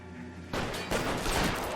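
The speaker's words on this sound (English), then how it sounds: "Machine gun." Rapid bursts of machine gun fire from a shootout in the video game LA Noire start abruptly and stay loud and dense, a sustained fusillade with no voices.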